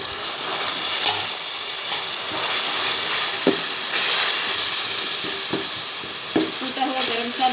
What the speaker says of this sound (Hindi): मिर्च, हल्दी, नमक, साबुत ज़ीरा और सूखा धनिया ये मैं डाल दूँगी इसमें।